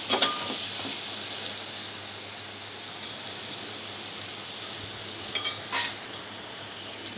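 Chili chicken with a coriander garnish is stirred in a hot pan, giving a steady sizzle with scraping and occasional metallic clinks of the spoon against the pan.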